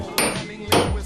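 A hammer strikes metal twice, bending a camera handle for snow and skate use clamped in a vise; two sharp, loud bangs about half a second apart, each with a ringing tail, close up and without talk.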